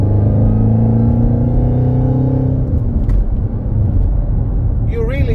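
A car engine fitted with a Roots supercharger rumbles loudly up close, its steady mechanical whine layered over the deep exhaust firing, then shifting in pitch near the end as revs change.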